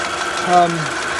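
Seat Altea 2.0 FSI engine idling with a slight tick, a steady mid-pitched running hum with a brief swell partway through, heard close and alone.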